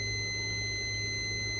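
A digital multimeter in diode test mode, probing a part inside a broken air fryer, gives off one steady, continuous high-pitched beep at close range with no voices.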